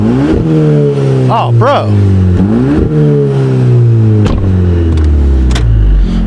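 VW GTI fitted with an Integrated Engineering sport muffler, revving hard in repeated rising and falling sweeps, loud and close, while a voice briefly exclaims over the engine.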